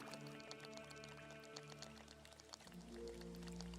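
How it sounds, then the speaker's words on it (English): Soft, faint clicking and bubbling in a video game, gentle liquid drips scattered over a low steady hum, quiet and close. "You hear that gentle clicking or bubbling or whatever?"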